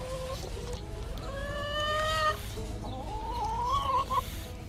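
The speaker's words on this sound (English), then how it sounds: "Chickens." Chickens on a farm clucking and squawking near, a few rising tonal calls in short bursts over faint background noise, with no talk.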